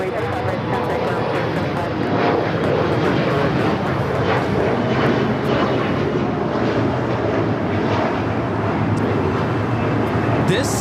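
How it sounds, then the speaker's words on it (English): An Alaska SkyWest Embraer E-175 jet takes off at LAX, a loud, sustained broadband engine roar that holds steady throughout with no clear speech. "This is Alaska Skywest 3432 taking off to Manzanillo on the E-175"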